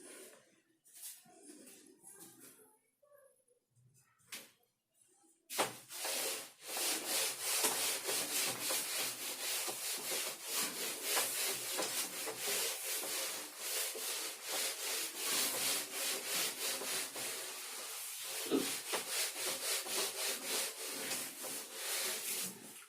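Eraser or duster rubbing out written notes on a classroom board during a physics lesson, a steady scratchy back-and-forth scrubbing that starts after a few quiet seconds and continues loudly and closely with no talk.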